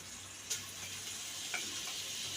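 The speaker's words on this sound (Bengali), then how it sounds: "এখন ভাজা হয়ে গেছে মশলাটা" Spices and cumin powder fry in butter in a pan for a plain paneer dish, making a faint, steady sizzle with a couple of small ticks from a utensil and no voices.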